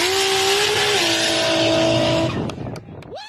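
A 1,000 horsepower Razor drag car running at a drag strip, a loud close engine roar with a steady high whine that drops in pitch once, then cuts off abruptly into a few sharp pops and a rising whine.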